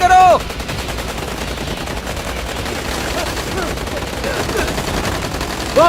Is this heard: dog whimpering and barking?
no